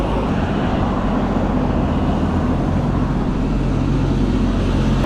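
Lorries pass on a road beside a bike track in Bristol, a dense, steady roar of heavy traffic noise, loud and continuous for several seconds with no talk.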